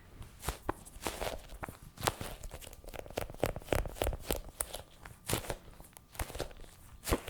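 Rapid, irregular squishy crackling and popping of soft gel balls (Crayola Globbles and imitation ones) being squeezed, close and fairly quiet, with no talking.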